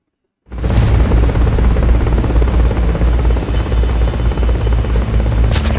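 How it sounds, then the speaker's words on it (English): A helicopter roars loud and close in the video game Metal Gear Solid: Peace Walker, starting abruptly after a brief silence and holding a dense, steady rotor drone throughout with no speech. "Forget about the chopper for now."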